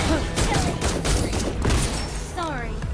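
Granger's rapid gunfire in Mobile Legends rattles off in dense bursts of shots amid hectic battle effects and a voice line.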